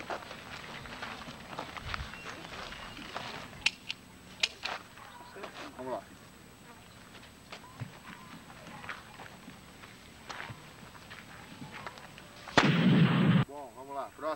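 Gunshots ring out during firearm shooting training, several sharp isolated cracks spaced apart under ongoing talk, then a loud dense burst of fire near the end.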